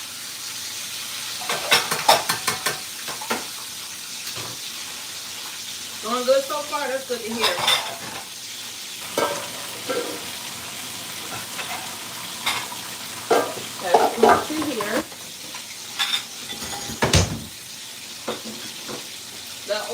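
Chicken frying in oil at a home cook-and-chat session, a steady sizzle broken by utensil clinks and the scrape and clatter of pots, under intermittent relaxed conversation between people.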